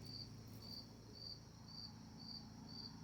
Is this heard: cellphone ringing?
no